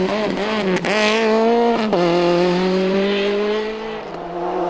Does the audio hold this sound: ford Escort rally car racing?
yes